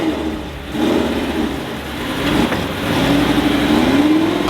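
An Audi R8 in rough, neglected condition starts up and its engine revs, rising and swelling in pitch over several seconds, loud and close with no talking.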